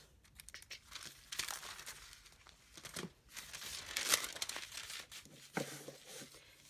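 Sheet of glassine paper being handled, giving irregular crinkling and rustling bursts that rise and fall in a steady stretch, fairly close and with no talking.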